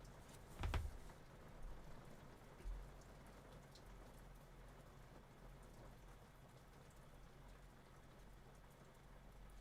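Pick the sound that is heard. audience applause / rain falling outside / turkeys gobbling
rain falling outside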